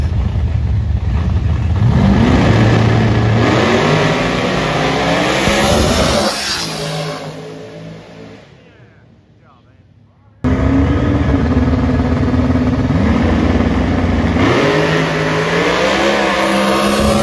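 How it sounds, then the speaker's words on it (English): Two loud supercharged big-block drag cars roar and rev at close range, surging in pitch, fading briefly, then cutting back in at full volume, with a voice heard under the noise. "we got two big block blower cars here. It's gonna be really loud."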